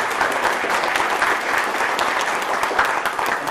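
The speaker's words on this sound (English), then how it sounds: "Now let's give everybody a round of applause." An audience at a town council candidates' meeting applauds, the dense, even clapping of many hands filling the room loudly and steadily for several seconds.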